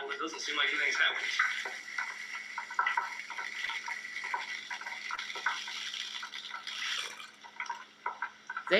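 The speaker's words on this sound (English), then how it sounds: "He's frying Orbeez." Close, loud crackling and popping sizzle of Orbeez water beads frying in a pan, a dense spattering texture with people talking over it.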